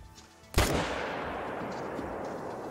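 A single loud rifle shot fired at a blacktail deer during a hunt outdoors, a sharp close crack followed by a long rolling echo that fades slowly across open country.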